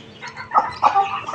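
Young desi chicken chicks give a few short clucking calls close by, quick bursts rising and falling over a brief moment with no talk.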